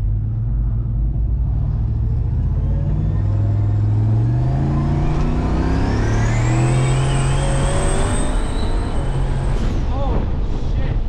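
Turbocharged 1987 Chevrolet Caprice Landau accelerating hard, a loud, close engine roar that climbs steadily in pitch as it pulls through the gears, with turbo whine rising over the rumble and a voice exclaiming over the noise.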